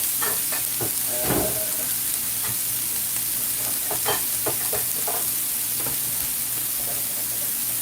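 Plant-based ground meat simmering in a pan: a constant close hiss of frying with scattered small pops and stirring clatter, no voices.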